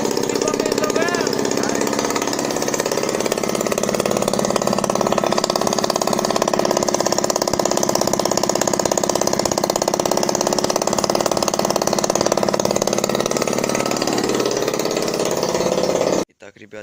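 A Honda Dio scooter's small two-stroke engine runs steadily after a cylinder repair, a loud, close, busy rattling idle that continues without pause for about sixteen seconds before cutting off abruptly.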